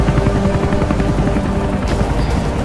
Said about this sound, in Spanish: Han venido en otro helicóptero